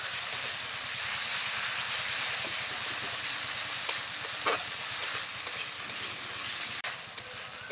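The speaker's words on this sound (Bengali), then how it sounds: "এই মশলাটা কিছুক্ষণ খুব ভালোভাবে নেড়ে নেব।" A paste of cumin, coriander and green chilli fries in a pan in a village kitchen, giving a steady close sizzling hiss with occasional scrapes and taps of a spoon stirring through it.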